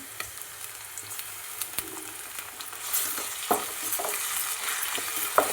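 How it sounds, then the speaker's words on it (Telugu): Ginger garlic paste frying in a pan for a village-style Andhra raw banana masala curry: a low, steady sizzle with scattered clicks and scrapes of stirring that grows slightly louder toward the end, no talking. "వేసుకొని బాగా పచ్చి వాసన పోయేలాగా బాగా ఫ్రై చేసుకోవాలండి"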